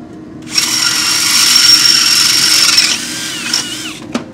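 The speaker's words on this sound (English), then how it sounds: "Boy, that DeWalt drill really drills them fast." DeWalt power drill running at high speed for about two and a half seconds, drilling holes for P-clamps in an intercooler water box on a WRX drag build, steady whine close up, then a short second burst and a brief click.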